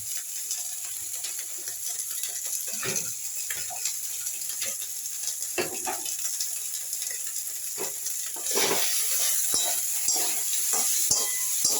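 Squeezed soybean chunks fry in a hot pan, a constant close hiss of oil with frequent scraping stirs and light clicks, growing slightly louder toward the end, with no talking.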